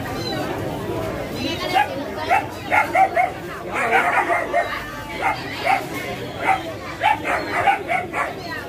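Several dogs bark repeatedly in short bursts at a busy pet dog market, fairly close and loud, with people talking and chattering throughout.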